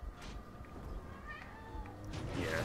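A cat gives a few faint, drawn-out meows over low background noise.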